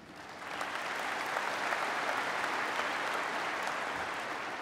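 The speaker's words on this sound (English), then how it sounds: "and they deserve a round of applause." Large crowd at an NRA leadership forum breaking into applause, swelling quickly to a broad, sustained roar of clapping that holds steady and begins easing near the end.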